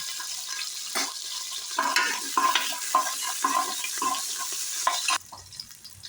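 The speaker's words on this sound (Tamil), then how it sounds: "அடுத்து பூண்டு சேர்த்துக்கலாங்க" Garlic fries in hot oil for sambar tempering, heard as a close crackling sizzle broken by repeated stirring scrapes, which eases into a quieter hiss near the end.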